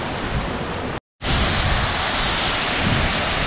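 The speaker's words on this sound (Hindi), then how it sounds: "और ये रहा वाटरफॉल" Birthi waterfall pouring into a pond-like pool, a loud, dense, steady roar of rushing water heard up close, briefly cut to silence for a moment before resuming unchanged.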